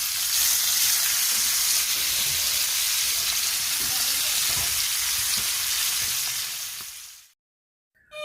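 Oil sizzles loudly in a small frying pan heated to fry hilsa fish for a mustard curry, a bright continuous crackling hiss lasting about seven seconds before stopping suddenly.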